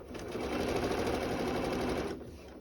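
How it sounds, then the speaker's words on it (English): A sewing machine stitches binding onto a quilt, its needle running in a steady rapid whir for about two seconds before stopping, close and clear with no talking. "I start sewing past where I ended, and I just keep sewing"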